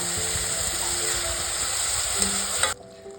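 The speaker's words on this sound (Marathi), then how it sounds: "आणि लाल होईस्तोवर आपल्याला कांदे छान शिजू" Onions frying in a pan for a Nagpuri Saoji dal kanda, a steady close sizzle and hiss with light stirring that cuts off abruptly near the end, no talk.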